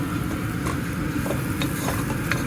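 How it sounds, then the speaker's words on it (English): Turmeric and spices frying in a pan for sorak curry, a continuous dense sizzle with faint scrapes of stirring on top, close and steady. "So let this fry for a minute, another 30 seconds"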